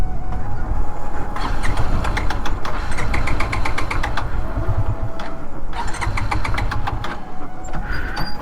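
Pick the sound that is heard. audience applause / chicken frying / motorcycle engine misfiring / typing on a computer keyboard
motorcycle engine misfiring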